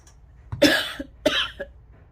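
Two or three harsh coughs close to the mic, separated by short gaps, over a low steady background hum.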